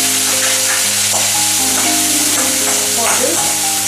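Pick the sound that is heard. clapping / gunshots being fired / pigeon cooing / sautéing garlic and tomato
sautéing garlic and tomato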